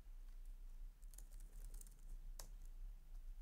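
Someone types a number on a computer keyboard: a quick run of soft key clicks, then a single sharper tap, faint over a low background hum with no talking.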